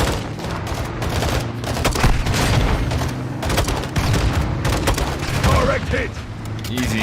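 A Call of Duty story mission on the hardest difficulty fills with dense, sustained gunfire, rapid automatic bursts and heavy booming explosions, a continuous loud battle din under occasional shouted voices.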